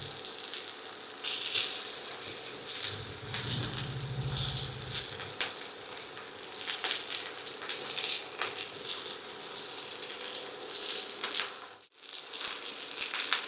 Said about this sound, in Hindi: तो अलट पलट के दोनों तरफ से हम इसको फ्राई कर लेंगे।